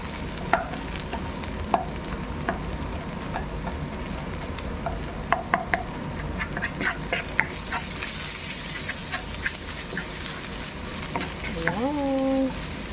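Bouillon cubes being stirred into pancit canton sizzling in a pan: a steady fry hiss with occasional scraping and clinking of the utensil, a voice speaking briefly near the end.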